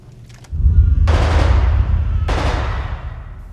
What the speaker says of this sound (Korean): 멀리서 총소리가 들리고